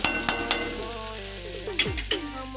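Garlic and ginger fry in a pan while Bengali chicken masala is prepared, a short close sizzle with a few sharp spatula scrapes and a low background hum, with no talking.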